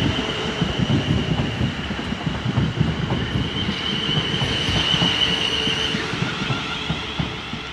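Class 450 electric train at Basingstoke station, a continuous rumble of wheels with rhythmic rail clicks and a faint high whine, close and steady throughout with no talk.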